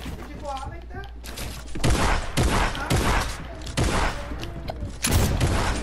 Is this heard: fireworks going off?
yes